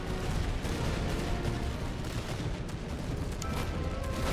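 Battle din from the Master of Command strategy game: a continuous, loud wall of musket volleys and artillery fire, dense crackling shots layered over rumbling booms with no pauses.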